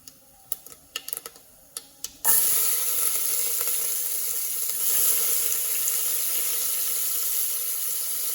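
Chopped onions drop into hot oil already crackling with fennel seeds for a soya chunk kurma, bursting into a loud, steady sizzle after a few sharp ticks and pops. The frying hiss stays close and continuous.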